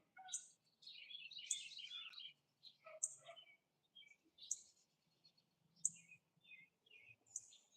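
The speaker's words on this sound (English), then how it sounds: "There's already some birds showing up right here." Small birds chirp and tweet in short bright bursts around a backyard chicken coop, several separate calls spread across the stretch with quiet gaps, fairly faint and outdoors with no talking.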